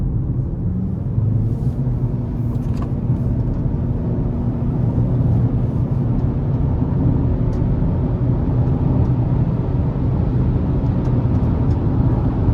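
A 2025 Chevy Equinox with a 1.5-liter turbo engine accelerates up an interstate on-ramp, a steady broadband cabin rumble of engine and road noise heard from inside, with no talk.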